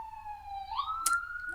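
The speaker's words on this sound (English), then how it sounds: "Sirens going by." A siren from an emergency vehicle passes, its wailing tone rising in pitch as it goes by, with steady low rumble underneath and no talk.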